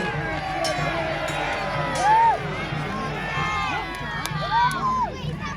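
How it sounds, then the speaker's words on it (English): Spectators at a Battle of Hastings reenactment cheer and whoop in scattered bursts, with shouts rising and falling over steady crowd murmur. "Give him a cheer."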